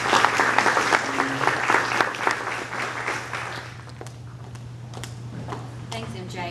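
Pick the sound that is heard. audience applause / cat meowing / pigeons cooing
audience applause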